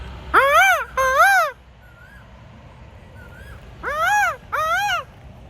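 Loud, close bird calls in two paired bursts, each a rising-and-falling harmonic squawk, with a long pause between the pairs and faint chirps in the gap, heard in early-morning quiet in Thailand.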